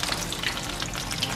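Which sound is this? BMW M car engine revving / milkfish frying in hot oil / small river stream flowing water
milkfish frying in hot oil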